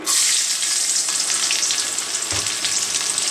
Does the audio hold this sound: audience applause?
no